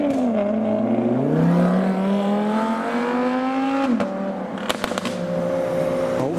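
A Maserati MC Stradale and an Audi R8 pulling away from a business-park roundabout, engines revving hard through rising gears with a brief gearshift dip and a few sharp pops, loud and close throughout.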